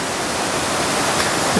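Sable Falls at Pictured Rocks National Lakeshore on Lake Superior pours down a cliff onto rocks as a steady, full hiss of falling water, close and constant with no break.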